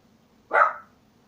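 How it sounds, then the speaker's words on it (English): A single sharp dog bark rings out close by against a quiet background, then fades quickly. "My dog just saw something outside."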